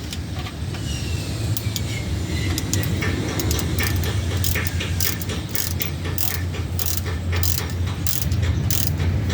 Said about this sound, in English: I will begin to tighten the lower bolts.